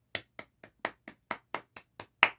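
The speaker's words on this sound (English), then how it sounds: "Hand clap." Ten sharp hand claps at a steady, slightly uneven rhythm, close and distinct with short decays between them and no talking.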